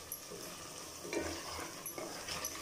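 Ginger, garlic and onion frying for biryani in a pan, a soft steady sizzle with occasional stirring scrapes, fairly quiet and close, no talking.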